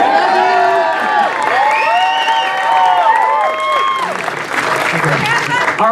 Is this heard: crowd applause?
yes